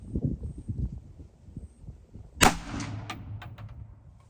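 A single loud, sharp rifle report from a Daniel Defense rifle firing reloaded ammunition, cracking out midway and ringing briefly into the surroundings after low background rumble and murmur.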